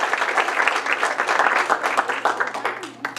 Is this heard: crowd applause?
yes